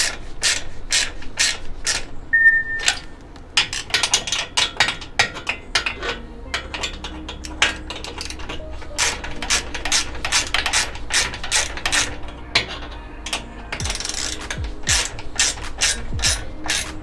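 A hand ratchet clicks rapidly and steadily while mounting a single wheel onto a boat trailer, giving close, loud, repeated pawl ticks in quick bursts with brief pauses and a low metallic rumble underneath.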